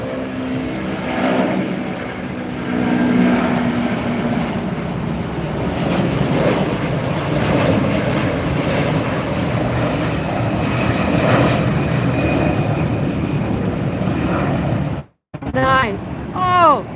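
A Hawaiian Airlines jet airliner passes at LAX airport, a loud sustained roar of engines and rushing air building and holding for many seconds, with a voice talking over it near the end.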